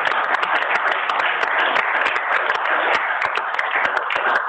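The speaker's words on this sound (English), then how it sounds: "just want to give a round of applause to all the great speakers" Steady, dense applause from an audience thanking the speakers at a funder briefing, heard close and sustained without a break and with no talk over it.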